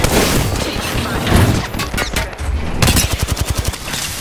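Apex Legends gunfire rattles in dense, loud automatic bursts, ending in a rapid rhythmic string of close shots, with booming impacts and heavy battle noise throughout.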